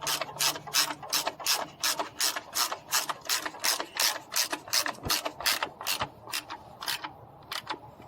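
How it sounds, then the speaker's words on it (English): A bolt being threaded back in and tightened with a ratchet on a Ford Explorer during a headlight install, heard as a close, rapid series of crisp clicking ratchet strokes in a steady rhythm, with a short pause near the end. "So right there, I'm threading that bolt back in."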